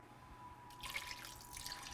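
Ice-cold water is poured into tahini paste in a kitchen for a shawarma sauce. A soft, faint trickling splash begins partway in and continues steadily to the end.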